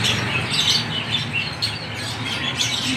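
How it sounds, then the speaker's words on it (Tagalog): Pet shop lovebirds chirp and tweet in a busy, overlapping chatter, with bright repeated calls rising and falling close by and no talking. "Lovebirds."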